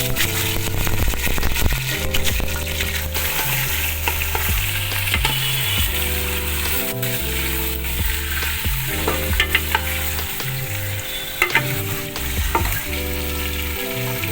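Washed, drained chicken pieces frying in a pan with cinnamon, star anise and crushed green cardamom for a Bengali chicken dish, a continuous sizzle and occasional stirring under loud background music.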